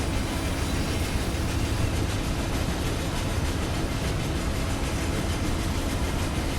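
An Amtrak Silver Meteor passenger train from Run 8 Train Simulator rolls at speed, a steady, loud rumble with a faint rhythmic clatter of wheels on rail joints, continuous and alone without talk.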